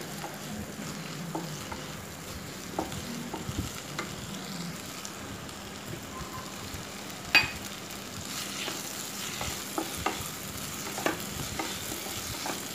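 Ginger garlic paste sizzles and fries in a hot pan while a spoon stirs it, with occasional soft scrapes and taps over the steady crackle.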